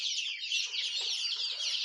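Dense, continuous high peeping of about 450 black chicks chirping together at once, close and steady.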